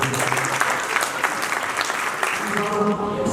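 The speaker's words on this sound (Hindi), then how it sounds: "ताली बजा लो" Audience at a kirtan clapping together, a thick continuous patter of hands from start to finish, fairly loud and close, with some indistinct voices mixed in.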